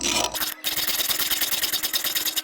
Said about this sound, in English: So I'm gonna file it a little bit more